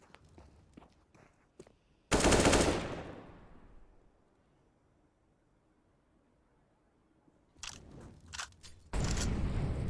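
Counter-Strike esports match gameplay: a sudden loud burst of gunfire fades into a long near-silent tail, followed by footsteps and more loud, sustained shooting toward the end.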